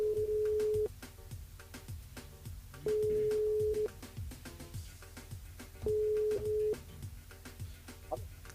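A telephone ringback tone sounds three times in steady one-second bursts while calling a radio game listener near Saint-Paul, with faint background music and chatter between the tones.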